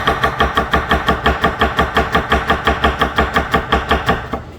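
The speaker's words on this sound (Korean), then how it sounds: "이렇게 다질 거예요. 그래서 나중에 볶아줄 거예요." A knife mincing ingredients, including spring onion, on a cutting board for a shrimp rice-ball lunchbox, with fast, steady, evenly spaced chops repeating close up throughout.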